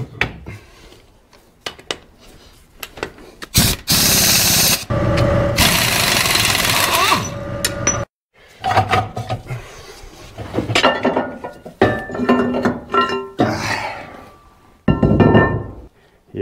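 Heavy metal hardware clanks, thunks and scrapes close by as jack stands and bolts are removed from a Caterpillar D4 winch. The loud metallic knocks come in irregular bursts, with one stretch of sustained scraping noise.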